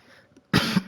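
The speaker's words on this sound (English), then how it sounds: "I had to clear my throat" A single short, forceful throat clearing, close and loud, after a moment of near silence.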